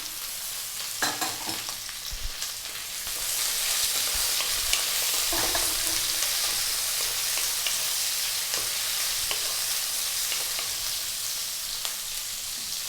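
Tomatoes sauté in a pan with carrots, onion and bell pepper for sweet and sour tofu, a steady close sizzle with intermittent stirring scrapes and clinks throughout.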